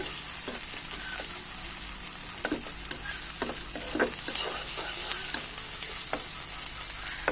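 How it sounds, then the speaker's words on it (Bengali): Onion and garlic lightly frying in a pan for a dried-fish and eggplant curry give a steady close sizzle, broken by repeated scraping clicks of stirring, with no talking. "পেঁয়াজ রসুনের সাথে একটু হালকা ভেজে নিতে হবে"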